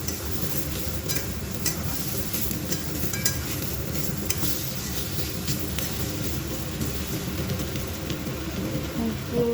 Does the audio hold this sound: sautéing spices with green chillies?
yes